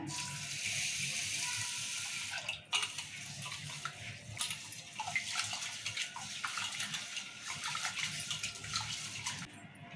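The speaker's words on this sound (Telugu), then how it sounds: "ఇప్పుడు నీళ్ళు పోసి కడుకుందాం మంచిగా" Three glasses of raw rice are washed in a pot with poured water, giving a continuous close swishing and splashing with occasional metallic knocks of the vessel.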